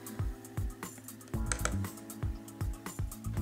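Keys tapped on an iPod Touch as a hostname is entered, a run of about a dozen soft, distinct taps at an uneven pace with no talking.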